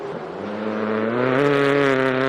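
A Vantage Citroen C3 rally car on a gravel special stage at Rally Bay of Plenty, its engine note rising loud and steady as it accelerates close by, with no voices over it.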